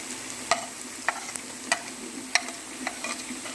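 Garlic-ginger paste softly sizzles in a pan as a spoon stirs, with a few sharp scraping clicks spaced about half a second apart.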